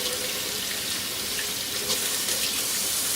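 Running tap water pours steadily and loudly over a whole pig being washed before roasting as kalua pig, a continuous broadband splash with small shifts as the stream hits the skin.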